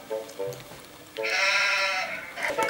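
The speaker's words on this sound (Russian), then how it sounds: "Давай барашку посмотрим. Овца. Овца. Вот такая овечка." An interactive animal toy plays a sheep bleat, a loud, wavering call that follows brief earlier toy sounds, with someone speaking Russian around it.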